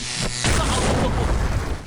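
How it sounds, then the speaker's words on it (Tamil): A sudden deep boom as a mobile phone explodes in a cartoon, bursting in after a short moment, followed by a rough, crackling roar that fades slightly over the next second. "என் போனு வெடிச்சுடுச்சு."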